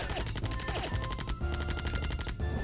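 Video game gunfire in Zombie Panic in Wonderland: rapid, continuous bursts of close shots rattle on through the short stretch with hardly a break, loud against busy game music and effects.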